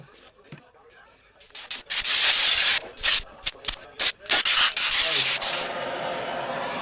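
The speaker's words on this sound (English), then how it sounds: "Make sure you clean up your centre spacer." The centre spacer of a Honda CRF250L rear wheel is scrubbed clean. Brisk, close rubbing strokes come in an uneven rhythm, loud and abrasive, with short pauses between bursts.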